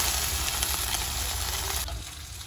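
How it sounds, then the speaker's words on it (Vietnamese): Snakehead fish sizzling as it fries in a pan, a steady crackling hiss of hot oil that runs nearly unbroken and dips slightly toward the end, with no talk. "Thì sáng nay thì chiên cá các bạn"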